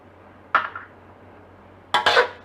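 Pork belly is stir-fried with shrimp paste in a pan, heard as two brief metallic scrapes and clinks of a utensil against the pan, the second louder, in a quiet kitchen with no talking.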